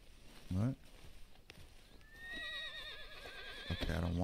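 A horse whinnies in the Red Dead Redemption 2 video game: a long, wavering neigh rises and trembles for over a second at moderate loudness, with hoof and ambient game sounds and a person talking around it.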